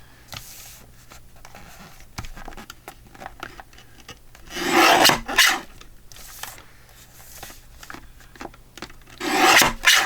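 Paper ephemera for a traveler's notebook is trimmed up close, with soft rubbing and rasping cuts rising into two louder, longer scraping bursts between quieter handling noises.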